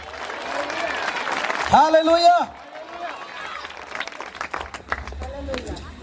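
Church audience claps in a dense burst of applause, rising and fading after a preacher's voice, with speech before and continuing after.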